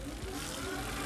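An electric bike's hub motor runs in pedal assist mode, a low steady whir with faint mechanical hum, brief and close.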